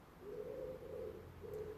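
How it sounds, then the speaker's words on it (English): Soft, low cooing of pigeons in a quiet room of an abandoned rubber factory, a few drawn-out coos in a row. "Apart from the pigeons."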